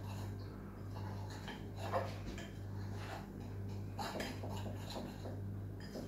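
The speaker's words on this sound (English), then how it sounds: "So just give this a good whisk." Batter whisked in a bowl for an apple sponge, a steady run of light scraping and clinking strokes against the bowl over a constant low hum, with no talking.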